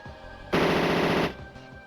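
Machine gun fire in the MS-DOS mecha game Power Dolls, one dense, loud burst of rapid shots lasting under a second, with quieter game background before and after.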